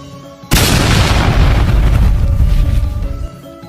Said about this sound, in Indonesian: batu padas itu seakan-akan telah meledak